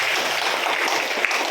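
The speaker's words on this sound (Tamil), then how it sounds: "எல்லாரும் அவனுக்கு ஒரு கைத்தட்டு கொடுக்கலாமா?" Children in a school classroom applaud a classmate, a dense continuous patter of hand claps lasting the whole moment at steady loudness with no talk over it.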